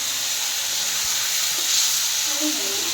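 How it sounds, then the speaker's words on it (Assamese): Elephant apple pieces fry in a pan, giving a steady close sizzle and hiss that runs the whole time with faint bubbling. "এনেকৈ অকণমান দেৰি ভাজি ল'ম ইয়াৰ টেঙাখিনি"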